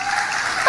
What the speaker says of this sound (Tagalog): talaga, may mga palakpak pa yan.